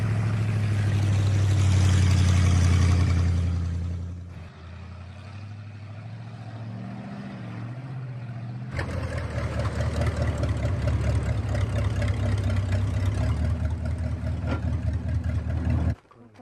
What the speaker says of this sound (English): Don Martin takes his and Wilfredo's harvest back to the village on his 1952 Dodge Transporter.